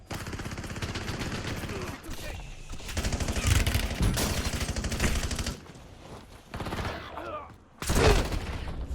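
Dense automatic gunfire in the battle-royale video game Warzone, sustained rapid bursts of shots close by with brief pauses and a final sharp burst, mixed with game effects.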